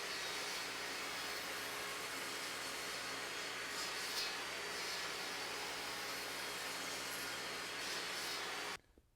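A Skil TS6307-00 budget table saw cuts red oak with dust collection running, a loud steady whining roar that holds for several seconds and then cuts off abruptly at the end.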